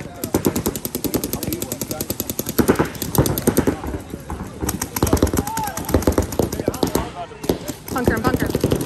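Paintball markers fire in rapid bursts during a 3-man tournament semifinal match, dense cracking volleys running almost continuously with players shouting over them.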